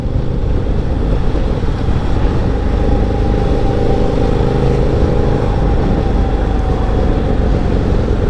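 A KTM Super Duke 990 motorcycle rides along with a loud, steady engine drone and rushing wind noise, heard up close throughout.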